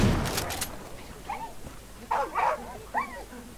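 In the video game Far Cry 5, a dog barks several times in short bursts after an opening sharp crack, the barks spaced irregularly and moderately near, with no speech.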